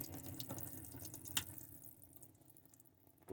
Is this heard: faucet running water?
yes